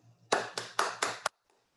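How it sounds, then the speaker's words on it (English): Five sharp, evenly spaced hand claps from a single participant in a virtual meeting, close and fairly quiet, then silence. "let us give a big round of applause to the assignees and for the Toastmaster of the day"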